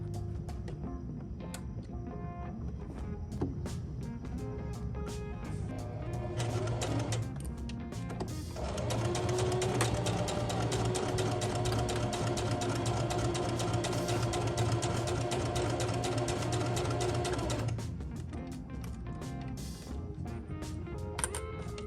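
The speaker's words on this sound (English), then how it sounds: "Now we're going to start sewing right here." A sewing machine stitches a seam on a simple beginner project, its motor whirring at close range in short bursts, then running steadily in a long, even stretch before slowing to intermittent clicks and stops.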